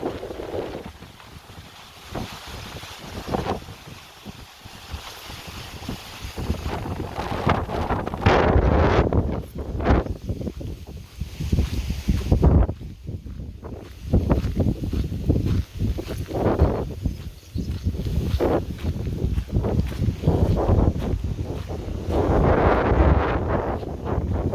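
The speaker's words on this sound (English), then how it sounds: "Kind of windy, water's a little bit choppy" Gusty wind buffets the microphone beside choppy water at Inman Lake in Kansas, with irregular roaring bursts that rise and fall over splashing waves.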